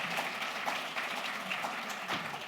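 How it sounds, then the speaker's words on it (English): A plenary session audience claps for the panelists, a soft, fairly distant round of applause that holds steady for a couple of seconds. "Please, can we give a round of applause to our panelists today?"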